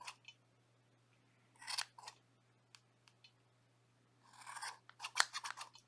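Scissors snip through yarn tassel ends in a few short, crisp bursts of cutting and rustling, close up in a quiet room with no talking.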